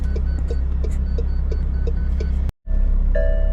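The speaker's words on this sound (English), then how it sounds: "that beeping sounds a little annoying" Warning chime in a McLaren 720S supercar, a steady train of short, evenly spaced beeps over a low engine idle inside the cabin, briefly cut off and then resuming as a higher sustained tone.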